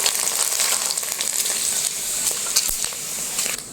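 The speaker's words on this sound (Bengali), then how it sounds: "4টে কাঁঠালের পাঁপড় দিলাম আর এক কড়াই হয়ে গেল এবারে।" Rice papads made with jackfruit leaves fry in a wok of hot oil, giving a continuous close sizzle with scattered crackles and occasional soft pops, no voices.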